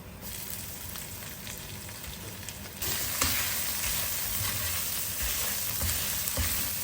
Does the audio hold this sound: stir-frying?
yes